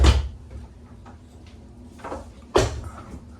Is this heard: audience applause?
no